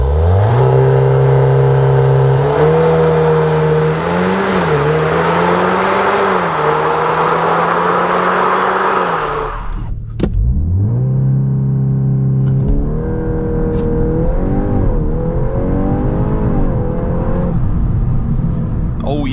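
Volkswagen Golf R facelift pulling hard on the Autobahn, engine note rising steadily in pitch through the gears, a brief drop at a shift, then climbing again with strong wind and road roar inside the cabin.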